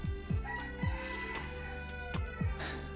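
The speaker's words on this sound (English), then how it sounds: "Can you guys hear that rooster?" A rooster roams a home neighborhood, and low rhythmic clucks and calls repeat in a steady pattern, fairly faint and at some distance, with no talk over them.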